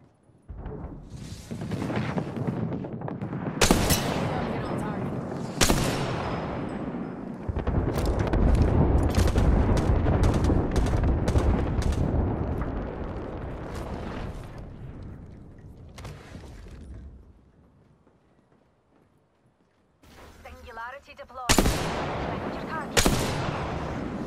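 Artillery barrages and gunfire fill a video game battle: sharp shots crack repeatedly over heavy rumbling blasts that swell, fade into near quiet, then return with a few loud close impacts, while voices speak faintly underneath.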